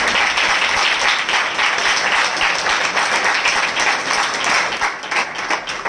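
A congregation at a Christian spiritual assembly breaks into loud, sustained applause, a dense, steady roar of many hands that swells slightly and carries on for several seconds without speech.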